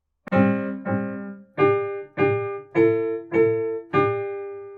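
A short Twinkle Twinkle Little Star melody of seven struck chords moves in parallel perfect fourths, each note ringing briefly before the next, giving a bare, hollow sound.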